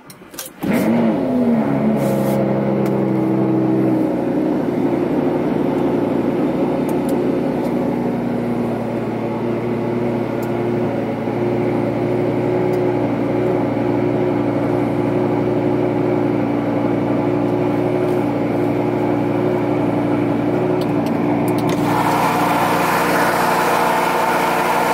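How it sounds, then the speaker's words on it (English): Lamborghini Gallardo cold start: a quick starter whir and sharp catch, then a loud, high, steady fast idle droning on with a rough, buzzy tone, rising slightly near the end. "Cold start of my Lamborghini Gallardo."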